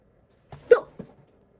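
A person lets out a short, sudden hiccup-like noise, a small sharp gulp followed by a softer second catch, close and alone in a quiet room.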